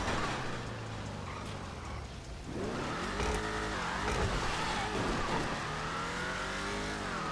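The powerful, beefy engine of the Ruiner ZZ-8 sports car in GTA Online roars and revs continuously, rising and falling in pitch as it accelerates, loud and close with no talking.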